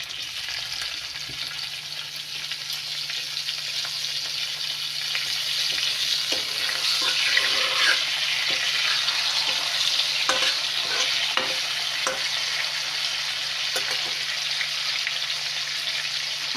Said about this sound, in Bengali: সেই আলুটাকে ভেজে নিচ্ছি।